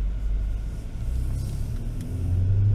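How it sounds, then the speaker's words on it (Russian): A Chery Exeed crossover with a seven-speed robotic gearbox accelerates to about 70 km/h, heard from inside as a smooth, low engine rumble that builds steadily without a break. "Вот мы разогнались до скорости 70 км в час, ни разу не почувствовав ни малейшего переключения."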